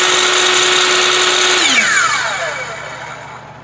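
A belt-driven, soft-start Hitachi C10FS Gen 1 miter saw runs with a loud, steady motor whine close by, then powers off and winds down in a falling pitch that fades over the last two seconds.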